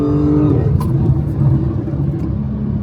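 An Audi S4 in a race pulls hard close by, its engine a loud, droning rumble that builds steadily as the turbo spools, with no speech over it.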